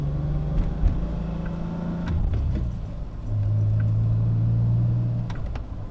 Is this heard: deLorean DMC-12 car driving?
yes